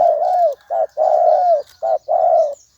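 A dove coos in a rhythmic pattern of long and short soft notes, five calls in a row, close and clear over a quiet background.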